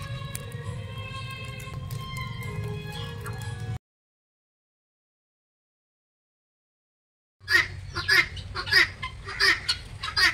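A country turkey gobbles in loud, rapid, warbling bursts, first one run of calls, then a gap of silence, then a second close, punchy series of gobbles.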